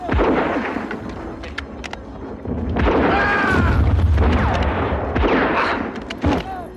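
Bombs exploding in a World War I battle scene with ANZAC soldiers, heavy booms and rumbling blasts rolling over one another, loud and close, under shouted voices.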